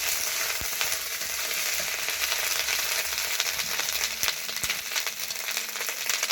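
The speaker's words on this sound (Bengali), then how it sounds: "হালকা লবণ দিয়ে আদাটাকে একটু লাল লাল করে নেব" Ginger frying in hot oil with a little salt for a vegetable shukto, a steady dense sizzle with occasional sharper pops and spits, close and continuous throughout with no talk.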